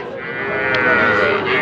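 A young heifer calf, roughly two to three months old, moos at a busy village cattle market, one drawn-out bellow standing close and loud over a murmur of crowd noise.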